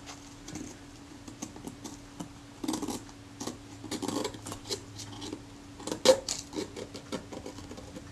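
Sharp scalpel scraping and picking tape off an Agfa Karat 36 camera in short, irregular bursts, close and fairly quiet, over a faint steady hum.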